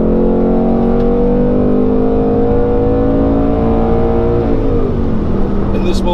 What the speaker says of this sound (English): So it's got 20 extra horsepower from this 5-liter V8, coming in at 480 now